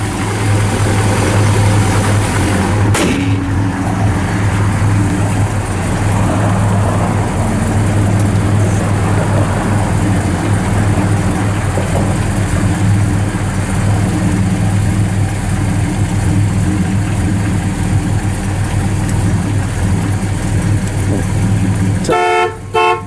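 A 1967 Plymouth Satellite with a 383 engine idles smoothly and steadily, close and loud, a low even rumble running throughout, with a brief rattly clunk early on and a short burst of horn-like toots near the end.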